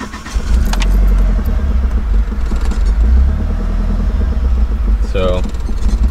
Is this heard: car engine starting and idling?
yes